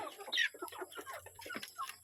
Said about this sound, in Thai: ให้ อาหารน้องไก่แล้ว